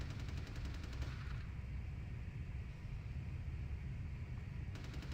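Shotgun fire in Vampire: The Masquerade – Bloodlines, rapid bursts of shots at the start and again at the end, fairly quiet, over a low rumbling background.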